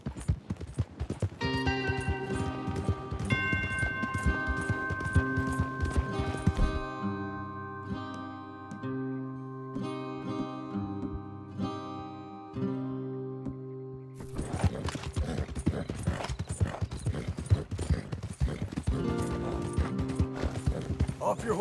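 Horses' hooves clip-clop in Red Dead Redemption 2, a steady trotting rhythm through sustained music, pausing midway before resuming more busily; a voice or whinny comes through briefly over the hoofbeats.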